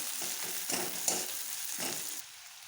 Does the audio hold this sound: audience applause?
no